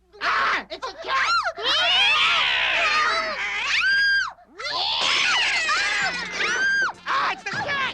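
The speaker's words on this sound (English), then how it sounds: "It's a cat!" A cat yowls and screeches loudly with rising and falling wails, mixed with frantic voices shouting and squealing close by.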